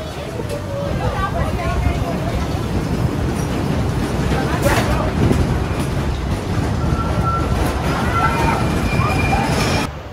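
The Mine Blower roller coaster on its retracked steel-and-wood track, a loud continuous rattling roar of the train with clattering wheels, heard from on board with riders' chatter and shouts mixed in.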